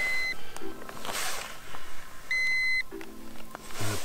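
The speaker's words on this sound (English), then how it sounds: "We just got a beep" An electronic bite alarm on an ice-fishing rig set for burbot at night beeps in short electronic tones, a few bursts with pauses between, fairly close over faint background rustle.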